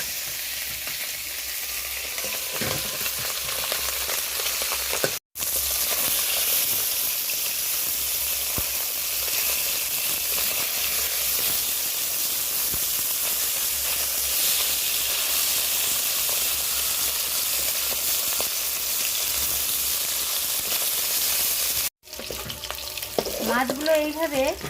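Gule fish frying in hot oil, a loud continuous crackling sizzle that runs steadily with two very brief cuts, with some stirring and bubbling near the end.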